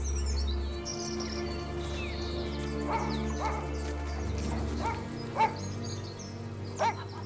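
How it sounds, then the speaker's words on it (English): A dog barks during a walk in quiet French countryside, a few short yips and barks spaced out over a low steady hum, with birds calling faintly in the background. "farmer Marcel Lant takes his dog for a walk."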